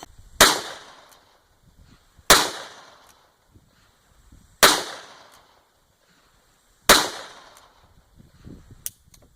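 Four sharp, loud gunshots fired with GECO ammunition, evenly spaced a couple of seconds apart, each with a short decaying echo, followed by faint clatter.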